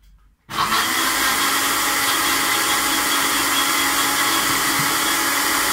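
A kitchen blender starts suddenly and runs loud and steady, whirring through sliced ginger, okra and water with a constant high motor roar up close.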